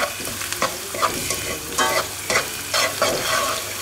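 Onions frying in a pan until just pink, a steady close sizzle broken by several louder scraping stirs at irregular intervals, with no voices.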